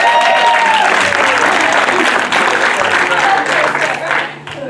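Audience applause at a live comedy sketch show, a loud, dense burst of clapping and crowd noise that holds steady and then tapers off at the end, with a voice faintly audible beneath it.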